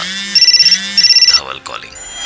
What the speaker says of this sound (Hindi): उसी वक्त दोनों का फोन एक साथ बजा